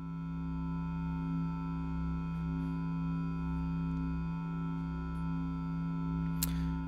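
Steady modular synthesizer drone from a feedback patch, layered sustained tones washed in reverb, holding evenly throughout with a brief bright click near the end.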